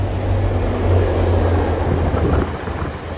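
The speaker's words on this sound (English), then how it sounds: "This sounds like it's a passenger train." A passenger train passes close by: a steady, loud low rumble with a broadband roar, holding level for a few seconds.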